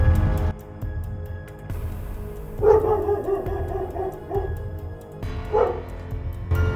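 Several cartoon dogs bark in quick clustered bursts against a low background hum, with a pause between rounds of barking.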